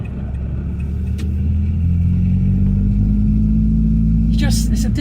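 Renault Clio 182 Trophy hatchback, naturally aspirated and tuned to 200 hp with fast road cams, drones loudly and close-up through its engine and exhaust, with the pitch rising steadily as it accelerates.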